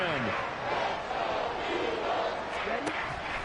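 Loud stadium crowd at an American football game roars in a dense, sustained wash of noise, with a commentator talking over it.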